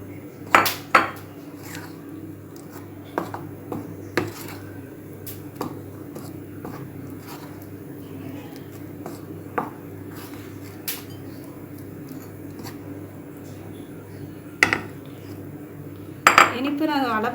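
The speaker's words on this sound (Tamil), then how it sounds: "இப்போ கொஞ்சம் கொஞ்சமாக ஊற்றி கிண்டிக்கலாம்" Palm jaggery syrup stirred into black rice batter for paniyaram, heard as soft, scattered clinks and scrapes of a spoon against a pot over a low steady background, with a louder clatter near the end.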